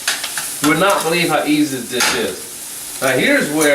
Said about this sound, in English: We get a nice saute.